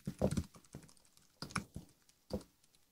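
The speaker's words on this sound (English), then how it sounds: "Sorry, I'm trying not to do my loud typing things." Quiet, irregular clicks of computer keyboard typing, a few short bursts of keystrokes close by with pauses between them.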